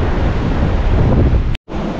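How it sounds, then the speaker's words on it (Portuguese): Strong wind roars across a beach promenade in Guarujá after rain, buffeting the microphone with loud, constant rumbling. The sound cuts out briefly near the end, then the gusts return. "Pelo amor de Deus, faz o vento parar."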